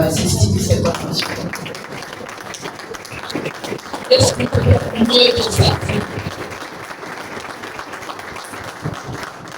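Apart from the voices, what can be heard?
audience applauding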